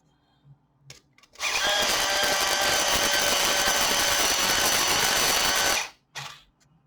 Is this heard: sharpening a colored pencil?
yes